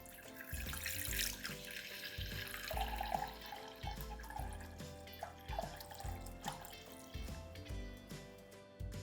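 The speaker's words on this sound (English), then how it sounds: "First, add the water to a medium saucepan." Tap water runs and splashes into a medium saucepan in a home kitchen, a continuous filling sound with small surges and drips throughout.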